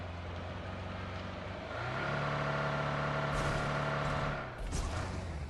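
A vehicle driven in the video game BGMI, its engine droning steadily and then rising into a higher revving whine before dropping off with a few bumps, moderately quiet, no voices.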